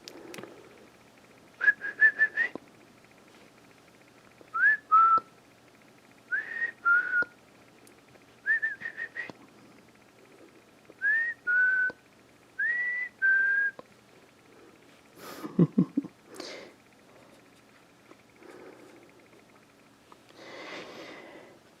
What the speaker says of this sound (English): So he will actually call if I whistle.